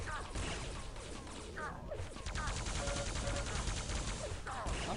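Rapid plasma gun bursts and rocket blasts in a Quake Live match, a dense, loud barrage of game weapon fire with whooshes and impacts over constant action.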